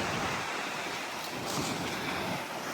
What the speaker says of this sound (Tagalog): What I wanted to capture here is yung wave.